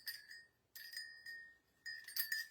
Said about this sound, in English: I love the sound of bells.